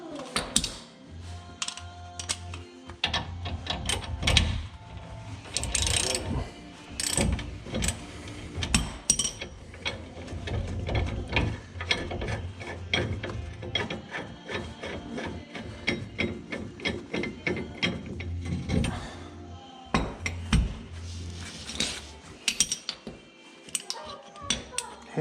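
Socket wrench ratcheting on a Dodge Ram torsion bar adjuster while its tension is released, a busy run of close metallic clicks and clatter with some mechanical knocks, loud and continuous, with no voices.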